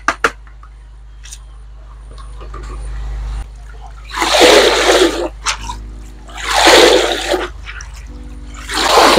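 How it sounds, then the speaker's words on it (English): Catfish on a fish farm are poured with water from one container into another while being sorted by size, giving repeated loud gushing splashes in bursts with brief pauses, over a low steady hum. "So gently pour the fish here."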